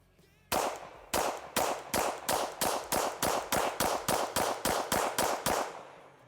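An OA 2311 Pro Elite metal-frame 2011 pistol firing about fourteen loud, sharp shots in a steady, fairly quick rhythm, each crack followed by a short decay, with no talking.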